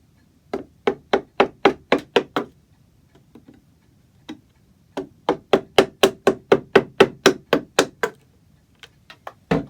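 Chisel being struck to chop out a mahogany piece on a grandfather clock case: rapid runs of sharp wooden taps, about eight to a dozen quick blows per burst with brief pauses between, close and clear.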